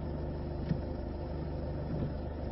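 A car's engine hums as the car slowly reverses into a car park bay, a steady, muted low rumble with a faint bump partway through and no talk.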